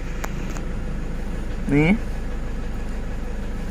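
A Toyota turbo engine idling steadily in a workshop, a low, even hum running throughout, with someone speaking briefly over it.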